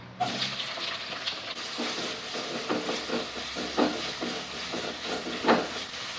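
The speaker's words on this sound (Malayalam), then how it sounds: "രണ്ട് ടേബിൾ സ്പൂൺ വെളിച്ചെണ്ണ ഒഴിക്കാം അതിലേക്ക് രണ്ട് സവാളയും മൂന്ന് പച്ചമുളക് ഇടാം" Two onions and three green chillies sizzle in two tablespoons of hot coconut oil for a chicken mushroom curry, giving a steady soft hiss with scattered crackles and pops, fairly quiet and with no talk.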